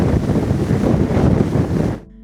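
Hurricane Sandy's storm wind roars and buffets the microphone with dense, loud rushing noise alongside crashing surf, ending abruptly.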